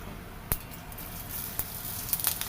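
Cumin seeds sizzling in hot ghee with cashews in a pan for jeera rice, a soft, steady, close frying hiss broken by a few sharp crackles and pops.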